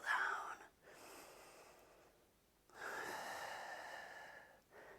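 Slow, airy exhalations during a yoga stretching session, a soft breathy rush rising twice for a couple of seconds each, close and fairly quiet with no talking over it.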